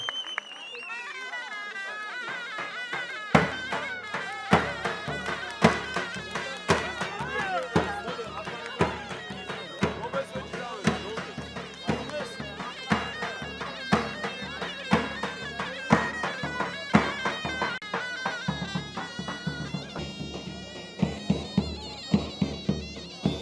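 A davul drum pounds out steady, driving beats at a traditional snow-covered Karakucak wrestling festival in Veliköy, Şavşat, Artvin, with loud, sustained hits over a lively crowd murmur and voices.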